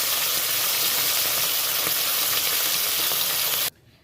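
Fish pieces fry in hot oil with a loud, steady sizzle and crackle for most of the stretch, then cut off abruptly near the end; no voices.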